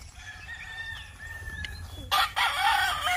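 A Kelso sweater gamecock rooster, a half-and-half blood with yellow legs, crows at a game farm. The call is fairly close and layered over steady farm background noise, with a louder burst of sound near the end.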